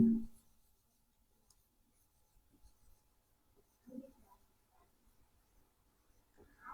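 Chalk or marker scratching across a board during a maths lesson, quiet short strokes with pauses, faint and close, no talking.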